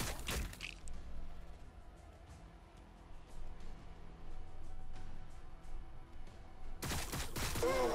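Gunfire in Warhammer 40,000: Battlesector, a scattered fusillade of sharp cracks crackling over a low battle rumble, with a louder burst of shots near the end.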